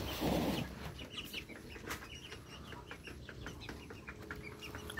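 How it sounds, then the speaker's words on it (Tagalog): Native chickens, a Rhode Island and hulo crossbreed, cluck in scattered short calls at a faint distance, with a brief louder rustle at the start. "Ito naman guys yung mga native chicken ko"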